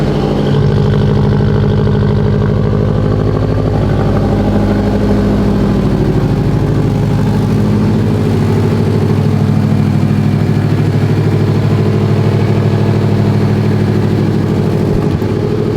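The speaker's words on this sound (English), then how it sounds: "I do hear a really bad exhaust leak." A Subaru STi engine idles steadily with a bad exhaust leak, a loud, rough, rumbling exhaust note that holds constant throughout, no voices present.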